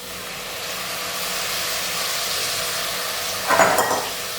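Vegetables and sprouted moong sauté in a hot pan, a steady close sizzle and hiss that runs throughout, with a brief burst of stirring scrapes near the end.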